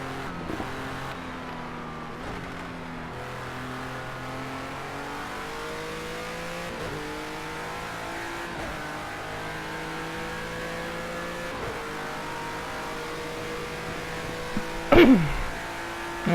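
A race car engine in a racing video game revs steadily with shifting pitch steps as the transmission downshifts repeatedly, ending with a sharp rising whine near the close; no talking.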